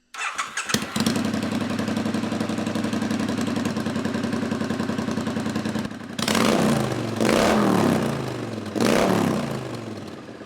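Street scrambler motorcycle engine started and run through homemade slash exhaust silencers: a loud, throbbing idle rattles at close range and then swells in two sharp revs.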